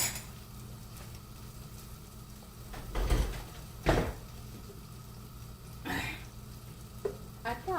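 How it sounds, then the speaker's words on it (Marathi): Bitter gourd is stirred in a pan while the oil heats, a steady low sizzle broken by a few louder scrapes and clatters of the spoon against the pan. "इथे जरा मी कारलं घातलं आहे शिजत. ते ढवळत आहे तेल तापेपर्यंत."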